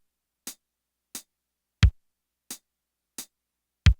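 A sparse drum pattern on a 505 drum machine: six evenly spaced short hits, mostly light crisp clicks with two deeper, heavier kicks, each standing alone against silence.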